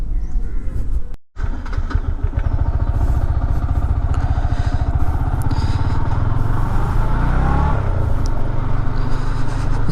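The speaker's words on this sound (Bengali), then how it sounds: "বাইক চালাতে চালাতেই বলি।" A Yamaha MT-15 motorcycle is ridden on the road, its engine a loud, steady close drone with a brief cut early on and a rising pull near the end.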